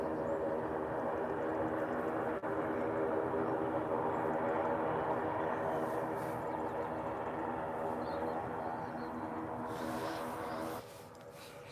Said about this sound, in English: coming in behind it is an EasyJet from Belfast